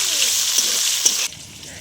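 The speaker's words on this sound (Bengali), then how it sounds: "তা পেঁয়াজটা আমি ভাজা ভাজা করে নিয়ে" Chopped onions fry in a wok, giving a loud, continuous hissing sizzle with a couple of faint stirring knocks before the sound cuts away abruptly.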